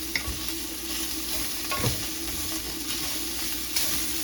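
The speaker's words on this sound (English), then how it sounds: "get the fond scraped up as much as possible" A spoon scrapes fond from the bottom of a hot pan while stirring, during pozole cooking, over a steady loud sizzle and hiss with occasional sharper scrapes and no voices.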